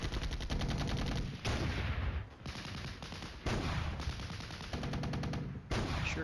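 Attack helicopters fire their guns in the wargame Flashpoint Campaigns: Red Storm, rapid machine-gun bursts in several loud volleys separated by short pauses, with sharp repeated reports and no talking.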